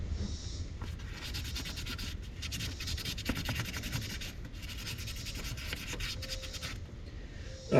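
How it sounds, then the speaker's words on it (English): Steady, continuous scratchy rubbing of sandpaper on a Honda S2000 clutch part, close and fairly loud, with a brief pause near the end. "You're gonna want to sand with the sandpaper."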